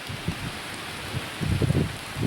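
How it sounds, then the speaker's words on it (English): Steady rain falls outdoors, a broad even hiss with soft low patters that swell and thicken toward the end, no voices. "here it is, raining on Monday"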